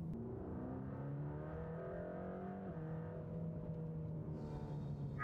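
A sports car engine in Sport Plus mode drones steadily from inside the cabin, a low, throaty hum that rises slightly in pitch and holds, with no talk over it.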